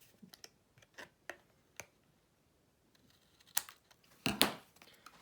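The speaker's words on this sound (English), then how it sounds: "you rest the scissors along the side of the card and just snip that" Scissors snipping along the edge of a piece of card in a papercraft project: a few sharp, separate clicks and snips close by, with a couple of louder cuts near the end, no voices.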